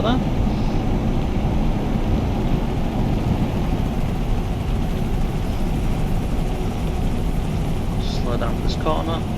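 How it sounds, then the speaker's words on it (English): A helicopter flies over a motorway in Euro Truck Simulator 2, a steady rotor drone merged with the low rumble of the truck's engine and road noise, with someone talking over it. "Oh, and there's a helicopter."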